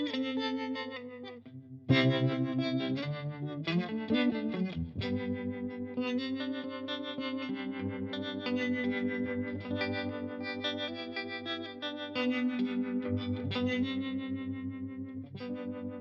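Electric guitar playing sustained chords and single notes through an MXR M305 tremolo pedal set to half speed and full depth, loud and close with a steady pulsing volume throughout.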